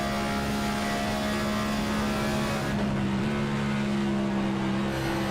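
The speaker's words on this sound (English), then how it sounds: "listening to his car, you can tell he stayed out of the throttle longer than the 91 of Paleschi." Race car engine roaring steadily at Pocono Raceway, a continuous loud drone with a shifting pitch partway through, dense and unbroken with no talk.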